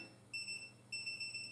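A handheld non-contact voltage tester beeps as it nears a live wire at a household breaker box, giving two bursts of shrill, steady electronic tones, close and clear over faint room hum.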